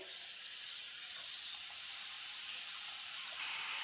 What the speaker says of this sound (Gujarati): હવે આપણે ધીમા ગેસે મુઠિયા તળી લઈશું.